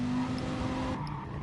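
A race car engine holds a loud, sustained high rev with some tire noise, steady and close throughout a short burst.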